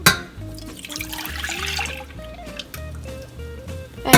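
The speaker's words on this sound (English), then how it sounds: "you will pour in the milk" Milk pours into a small pot on a stovetop, giving a close, gurgling liquid trickle with a shifting pitch as the pot fills.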